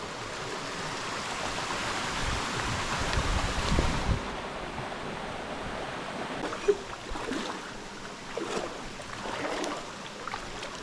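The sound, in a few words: Doblarec stream flowing through a canyon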